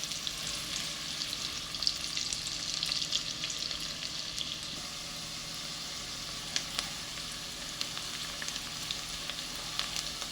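Onions frying in a pan until browned, a steady close sizzle with a bright crackling hiss throughout and occasional small pops, no voices.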